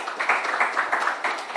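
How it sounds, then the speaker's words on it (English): Crowd applause for a government minister at the launch event of a marathon, a steady dense clatter of many hands lasting under two seconds, moderately loud and even throughout. "A round of applause for the Honorable."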